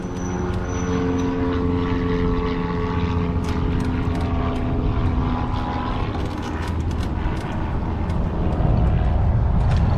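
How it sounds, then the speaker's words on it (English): A propeller airplane drones steadily overhead, a loud continuous engine hum with a slight swell toward the end, no talking. "Airplane."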